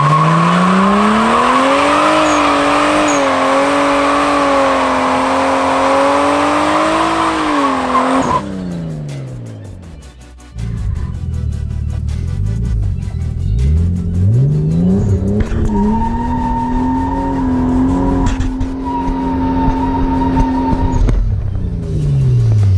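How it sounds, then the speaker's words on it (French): A car performs a rolling burnout on asphalt, its engine revving loud and close with sustained tire squeal that dips, cuts out briefly, then rises again with pitch climbing as it accelerates. "C'est un burn tiré."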